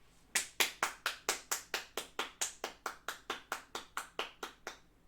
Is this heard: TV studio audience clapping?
yes